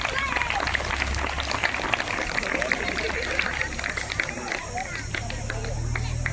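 A crowd of schoolchildren at a primary school in Satara claps together in a dense, sustained burst of applause mixed with general hubbub.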